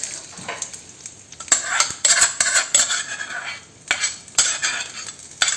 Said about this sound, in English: So just put the tempering on this.